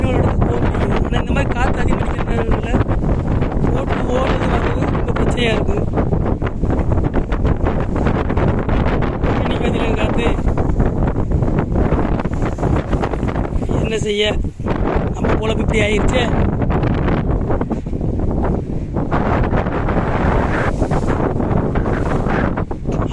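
Strong wind at sea on a fishing boat, roaring steadily across the microphone with water and hull noise beneath, loud and continuous while someone talks throughout.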